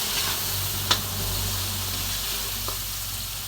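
Sliced sponge gourd sizzles in a hot pan of sautéed mung bean stew, a steady close frying hiss with a couple of faint clinks of a utensil.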